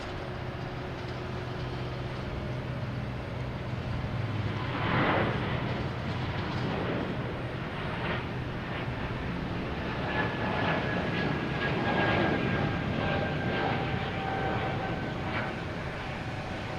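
A jet airliner taking off at Boston Logan Airport, a steady broad engine roar heard from a distance, swelling slightly and holding throughout with no talk.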